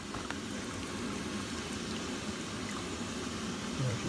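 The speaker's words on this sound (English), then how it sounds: "we've got some pretty good boiling going on out here" Maple sap boiling hard in an outdoor wood-fired evaporator makes a steady, dense bubbling hiss that holds even and continuous throughout, with no voices over it.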